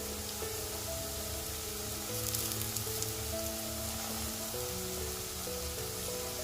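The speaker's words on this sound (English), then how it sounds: "I am going to add in the chopped green chilies into this" Chopped green chilies and onions frying in a pan give a faint, steady sizzle with soft crackles, while a thin background hum runs underneath throughout.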